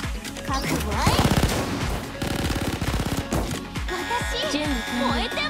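A gunfire volley in Blue Archive: rapid machine-gun bursts crackle in quick rhythmic runs, loud and close, layered with game music and voiced lines.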